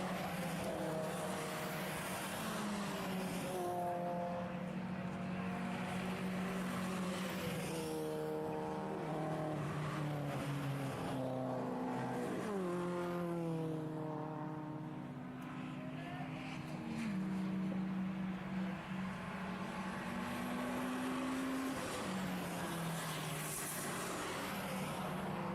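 Race cars, including BMW 116 class entries, circuit racing at Anglesey during an endurance race, engines rising and falling through gears as they pass, heard at a distance beneath continuous commentary.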